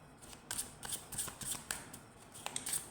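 Tarot cards being shuffled and drawn during a reading, a run of crisp riffling flicks and slaps at a steady rhythm, close and fairly quiet, with no voices.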